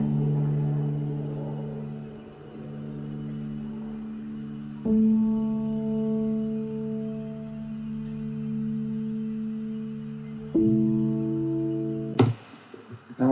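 Piano chords pitched two octaves down and slowed give deep, droning sustained tones that shift to a new chord twice, each held for several seconds, ending in an abrupt burst of noise.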